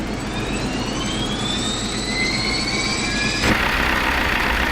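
Jetstream 41 turboprop engine starting in the PMDG flight simulator, a rising whine with climbing tones that swells into a louder, broadband roar near the end.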